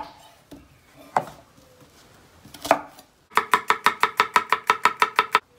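Knife chopping red peppers and onions on a board as a garnish for a cauliflower dish: a few scattered single cuts, then a fast, even run of about fifteen crisp chops, close and clear.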